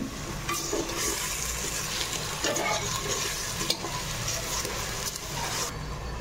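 Amaranth (thotakura) biryani mixture stirred steadily in a pan with a gentle sizzle, a continuous close scraping and frying sound with small clatters of the spoon, no voices.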